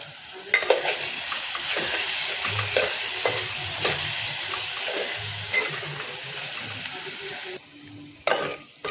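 Eggs and ridge gourd fry in a pan while being stirred, a loud constant sizzle broken by scraping utensil strokes and soft clinks, quieting briefly near the end before a final clatter.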